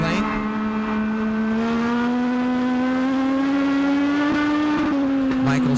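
Race cars on a track make a loud, continuous engine drone with a steady, slowly rising pitch, close and dominant throughout, and a commentator talks over it.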